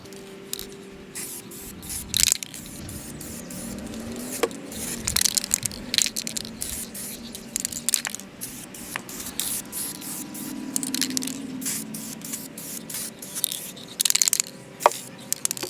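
VHT Night Shade tint is sprayed from an aerosol can onto car tail lights, with repeated short hissing spray bursts and can rattles close by, separated by small handling noises and no speech.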